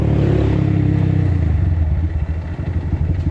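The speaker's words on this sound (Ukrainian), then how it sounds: "Чи так мотор так цокотить?" A Geon GNS 300R motorcycle without an exhaust silencer runs loudly up close, its idle shifting into a rapid, uneven ticking clatter as the revs drop and stutter.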